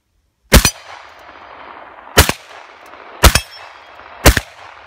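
A bullet-riddled metal gong hit by gunfire rings out four times, each shot a sharp, loud metallic clang followed by a shimmering, slowly fading ring, spaced about a second apart outdoors with no talking.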